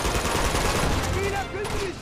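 Gunfire in the Uncharted 2 video game, dense overlapping bursts of shots and blasts that run loud and continuous before easing slightly, with a voice exclaiming over the shooting.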